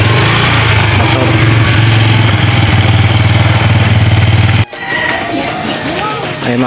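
A motorcycle engine idles steadily and loudly up close in a rural outdoor spot after a rainy ride, then cuts off abruptly, leaving quieter ambient sound behind.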